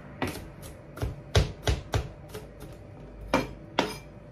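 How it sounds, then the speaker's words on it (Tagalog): A knife chops garlic on a cutting board with about nine crisp, close knocks in an uneven rhythm and a brief gap before the last two strokes. "Chop lang yun."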